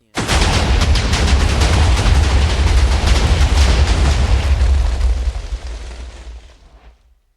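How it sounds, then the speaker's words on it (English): A big TNT blast from the Minecraft Lucky TNT mod erupts at once into a loud, sustained roaring boom with crackling debris, holding steady for several seconds before fading out. "Then spawns TNT."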